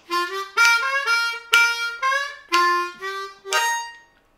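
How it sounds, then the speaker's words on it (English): An Eb harmonica plays a short bluesy lick: about eight clear reedy notes in a steady rhythm, with draw and blow tones alternating. It is close and moderately loud, with no voice over it. "the second half of the lick sounds like this"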